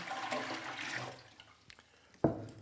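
Water pours into a container for turkey brine, a rushing, splashing stream that fades out, followed by a brief knock.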